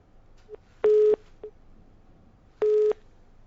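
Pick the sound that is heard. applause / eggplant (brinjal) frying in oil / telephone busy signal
telephone busy signal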